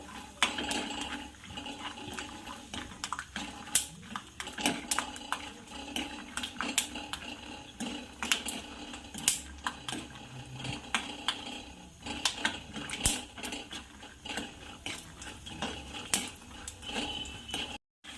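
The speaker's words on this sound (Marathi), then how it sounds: "हे बघा आपले शेंगदाणे छान तडतडले आणि भाजले" Peanuts roasting in hot oil in a kadhai give off a steady, close run of sharp crackles and pops with scraping clatter, continuing without talk.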